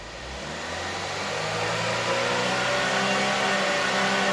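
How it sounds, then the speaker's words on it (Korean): A Chevrolet Orlando's engine idles steadily and close by, its hum rising gradually in pitch and loudness as it revs toward 4000 rpm, with no talking. "안에서는 보여드릴 게 이제 공회전 한번 돌려보도록 하겠습니다"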